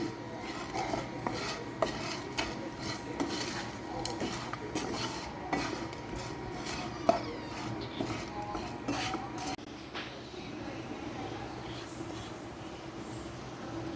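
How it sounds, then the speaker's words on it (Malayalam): A ladle scrapes and clinks against a pan while baby potato fry masala is stirred over low flame, with a soft, continuous run of metallic taps and scraping at a low level and no talk. "ഇനി ഇങ്ങനെ നല്ലോണം തവി കൊണ്ട് ഇളക്കിയിട്ട് മസാലയൊക്കെ പിടിക്കട്ടെ"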